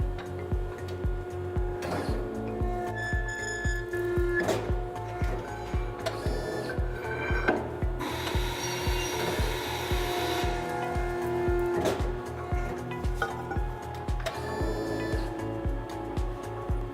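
Euromac Digibend 400 CNC horizontal press brake bending a sheet metal part, with a steady mechanical hum and rhythmic ticking, plus whirring servo and back gauge motion sweeping through, close and continuous throughout.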